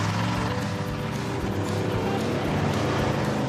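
A retired race car roars around a custom dirt track, its loud, steady engine drone filling the scene up close with no break.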